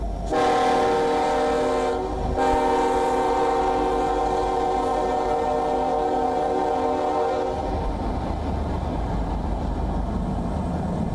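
A Union Pacific locomotive horn blares in a long, loud chord for several seconds, then cuts off, leaving the steady rumble of the passing funeral train.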